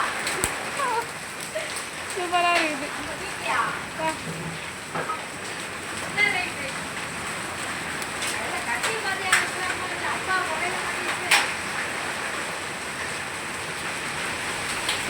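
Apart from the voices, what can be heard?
hailstorm, hail and rain falling on road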